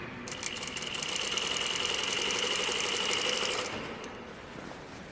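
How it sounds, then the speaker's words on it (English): A sewing machine runs a back tack on shirt fabric, a steady, close, rapid stitching whir that lasts about three seconds before slowing to a stop. "Lower our needle into the fabric. Do a back tack."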